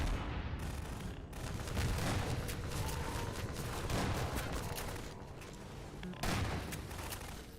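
Sustained gunfire in the Half-Life 2 shooter, a dense rattle of rapid shots with a few sharper bursts, steady and fairly loud throughout, without speech.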